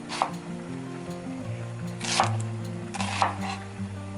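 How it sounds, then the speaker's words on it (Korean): Knife chopping onion into large chunks for a pork and vegetable gochujang stew, a few sharp separate cuts on a board over a steady low hum, close and moderately loud. "큼직큼직하게 썰 거예요."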